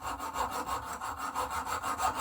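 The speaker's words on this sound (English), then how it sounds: "I'm going to just cut it by using a little hacksaw" A small hacksaw cuts through a carbon fibre fishing rod in quick, even back-and-forth strokes, close and loud with no voices.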